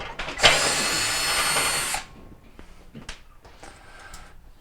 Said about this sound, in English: Sometimes it's hard to get a good angle on it with the drum in place, so I just put a flexible bit on here.